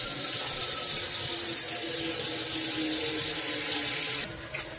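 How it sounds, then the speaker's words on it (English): Water runs steadily from a tap into a water filtration system, rinsing bleach out of the filter, a constant bright hiss that drops off abruptly near the end. "now I just need to run straight water in it and wash out the bleach."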